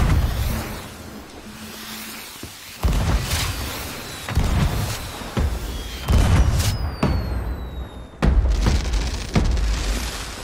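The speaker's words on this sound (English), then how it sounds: "Oh my gosh, dude, these fireworks are awesome." Fireworks launch and burst in the pirate game Sea of Thieves: whistling rockets rise, then several loud, booming explosions follow at irregular intervals over a dull background rumble.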